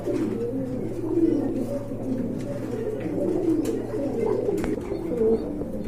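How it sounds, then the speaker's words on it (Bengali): Pigeons at a pigeon seller's stall coo steadily, a soft, low, rolling murmur that continues throughout with a few brief chirps and light background noise. "বন্ধুরা আরেক জোড়া কবুতর দেখতে পাচ্ছেন"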